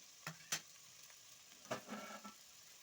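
A spoon stirs capsicum curry in a pan, giving a few short scraping strokes with clinks over a low sizzle. The strokes are close and fairly quiet, with no talking.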